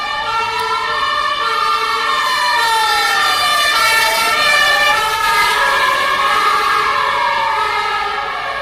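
A red fire engine's wailing siren rises and falls continuously as the truck moves through city streets, loud and close, with traffic rumble underneath.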